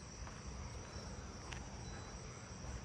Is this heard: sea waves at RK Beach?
no